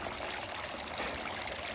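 Water flows steadily through a Sunnydaze 65-inch garden fountain, giving a soft, even trickling wash with no breaks.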